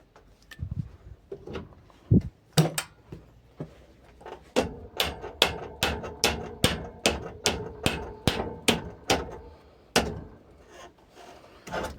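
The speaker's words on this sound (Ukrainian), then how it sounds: "Молоток завжди допоможе." A hammer knocks steadily during bicycle repair: a few scattered hits, then a long run of sharp, evenly spaced metallic blows at close range, with no talk.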